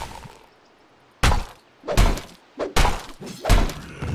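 A tower under attack in Dota 2, with a quiet stretch followed by several sharp, heavy thunking impacts and crashes in quick succession.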